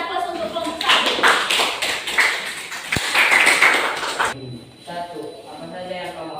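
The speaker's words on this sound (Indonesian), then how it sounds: "berikan aplaus untuk kelompok 1" Classroom applause for a student group after their presentation: a burst of clapping from a small group of people, close and fairly loud, lasting a few seconds and then fading into quieter room noise.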